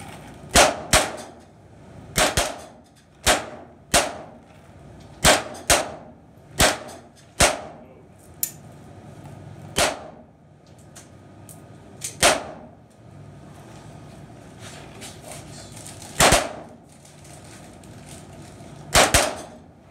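Gunshots ring off steel dueling tree targets at a fish and game club range, more than a dozen sharp cracks each followed by a metallic clang, spaced irregularly about a second or two apart, loud and close.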